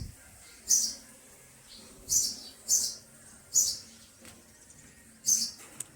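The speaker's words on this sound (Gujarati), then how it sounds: "જો ચકલી" A house sparrow gives five short, sharp chirps spaced irregularly over a few seconds, clear and fairly close against a quiet domestic background.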